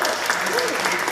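Steady applause from a fan convention panel audience fills the whole moment, dense and continuous with no pauses.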